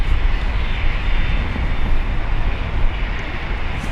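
A Jetstar plane takes off from Brisbane Airport, its engines a loud, steady broadband roar that holds without letup, heard alone.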